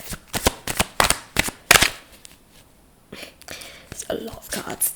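Tarot cards are shuffled and flipped over in a quick run of crisp riffles and slaps, close and clear. After a brief lull a soft voice speaks under the later card handling.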